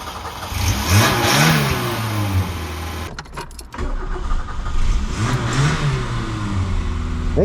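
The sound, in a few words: Peugeot 205 classic car engine starting and revving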